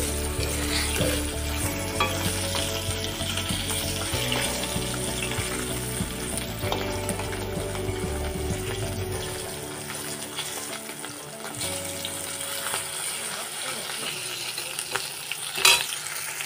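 Koi fish fry in oil in a pan, a loud continuous sizzle and crackle that runs throughout, with a few light utensil clinks and a sharper clatter near the end.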